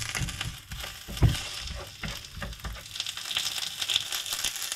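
Clarified butter sizzles in a hot pan while calf's liver Berlin style is cooked, a steady crackling fry with a sharp clatter near the start and gentle stirring scrapes, with no talk.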